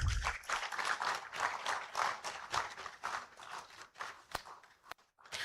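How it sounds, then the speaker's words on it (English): An audience applauds at an academic honorary conference as the keynote speaker, a professor, walks to the lectern; steady dense clapping fills the room, thinning and breaking off near the end. "The applause can still keep coming as he makes his way to the lectern."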